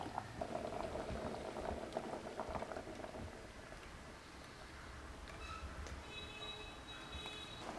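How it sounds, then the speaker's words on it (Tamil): A pot of milk, rice flour and jaggery mixture bubbles and simmers steadily at a low level, a soft continuous patter of boiling with faint clinks near the end. "இப்போ வெள்ளை கரைசல் விட்டு நல்லா கொதிச்சு வந்துருச்சுங்க."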